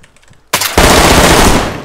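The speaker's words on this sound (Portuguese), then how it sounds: "que tiro foi esse" Heavy gunfire in the video game DayZ bursts in suddenly and loudly, a dense rapid volley that runs continuously for over a second, close and harsh, filling the space after a quiet start.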